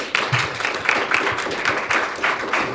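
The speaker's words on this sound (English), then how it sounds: "can we get a round of applause, please" A round of applause from the audience at a horror film festival Q&A in Romford, heard as a fairly soft, steady patter of clapping hands with no talk over it.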